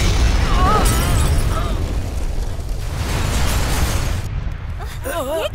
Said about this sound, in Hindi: ये धमाका कैसा? कितना भयानक है।